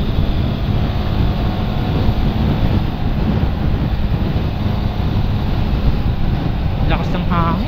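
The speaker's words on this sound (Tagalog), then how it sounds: "Lakas ng hangin." Strong wind buffets the microphone during a solo motorcycle ride on a Honda Winner X, a loud constant roar that fills the whole stretch, with a brief voice near the end.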